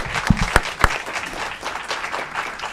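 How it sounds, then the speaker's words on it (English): A council meeting audience applauds a local hero, opening with a few sharp, distinct claps before settling into a softer, even patter of clapping from a moderate-sized crowd. "Let's give a round of applause for our superhero,"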